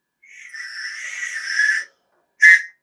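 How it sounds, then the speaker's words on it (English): Very loud whistle blown close by in one long shrill blast that swells toward its end, followed after a brief gap by a second short, piercing toot. "It's a whistle. And it's one of the loudest whistles in the world."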